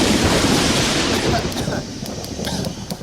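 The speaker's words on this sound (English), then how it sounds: "And thunder can get pretty loud." Loud thunder rolls in a broad, sustained rumble with a rain-like hiss, fading slightly toward the end.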